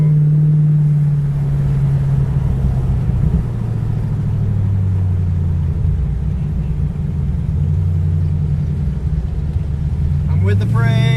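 Historic race car engine burbling at low revs during a parade at Lime Rock, a steady deep rumble close by that persists throughout, with a brief rise in pitch near the end.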